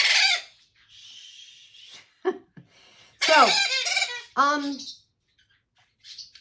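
A young pionus parrot lets out several loud, harsh squawking calls in short bursts, with brief quiet gaps and a single spoken word between them.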